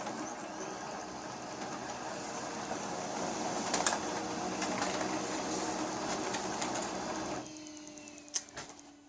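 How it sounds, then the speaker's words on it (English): A Brother MFC-L2700DW printer runs off pages with a continuous mechanical churning and rattling, then quiets to a softer hum near the end, where one sharp click is heard. "So that's your printing."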